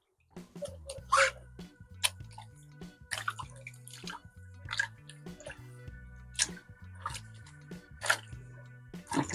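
Flannel fabric is dunked and rinsed in a bucket of water, giving several separate bursts of splashing and sloshing with drips in between, close by and fairly quiet.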